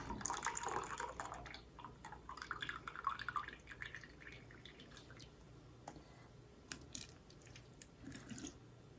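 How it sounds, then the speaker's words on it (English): Home-canned cherries being drained in a kitchen, with steady liquid dripping and trickling plus scattered clicks and clinks from the jar, fairly quiet and close, with no talking. "So I need to drain these cherries."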